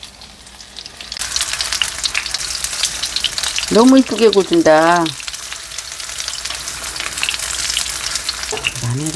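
Pollock fillet pancakes fry in oil in a pan with a steady, even sizzle, while a voice speaks briefly over the cooking.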